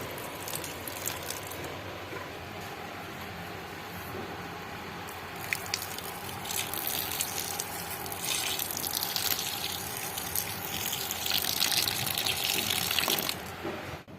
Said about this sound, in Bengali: চাল ডাল ধুয়ে জলগুলো আমি গাছে দিয়ে দিই